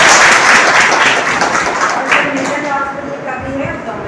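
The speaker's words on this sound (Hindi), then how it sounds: "तो एक बार उनके लिए बहुत बहुत तालियां" Clapping from an event crowd honouring the Inner Wheel Club organisers, loud at first then thinning out, with someone talking over it.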